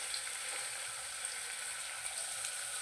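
Onion frying in oil with curry leaves and green chilli for sour upma gives a soft, even sizzle, faint and unbroken, with no speech.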